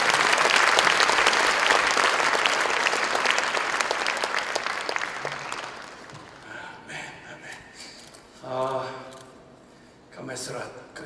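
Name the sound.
congregation applause welcoming a missionary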